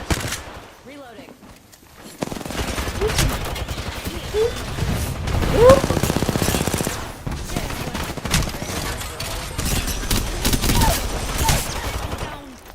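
Gunfire in a battle royale video game, sustained rapid bursts of automatic fire and clattering mechanical shots over several seconds, loud and close, with brief voice lines in between.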